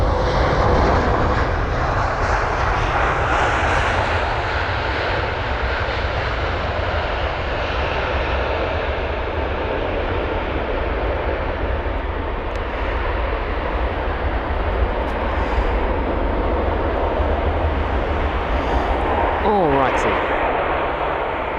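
Polish Airlines Boeing 737 MAX 8 landing at London Heathrow: a loud, sustained jet engine roar close by that stays strong throughout and eases slightly toward the end.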